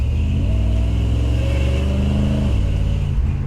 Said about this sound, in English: Let's see how it feels giving it gas.